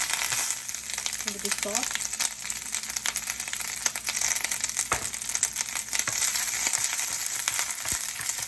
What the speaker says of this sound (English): I'm going to put the bok choy in.